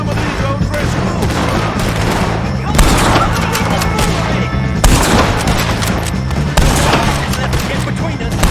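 A loud, dense Red Dead Redemption 2 gunfight, with repeated rifle and pistol shots cracking close and far in irregular bursts, layered over shouting voices and constant battle noise.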